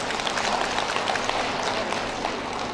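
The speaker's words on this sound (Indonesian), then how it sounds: "Coba berdiri, Arif, tepuk tangan dulu buat Adinda." A crowd at a community aid handover gathering applauds steadily, a continuous patter of many hands at moderate distance with some faint chatter underneath.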